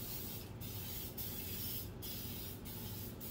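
Cooking spray hisses onto a glass baking pan in several short bursts separated by brief pauses, close and fairly quiet, with no voices.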